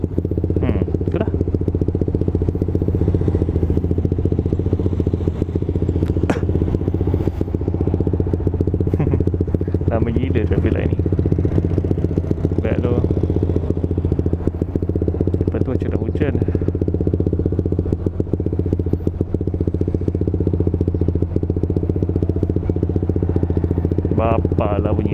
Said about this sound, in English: Ni motor 150cc, 4 stroke, single cylinder,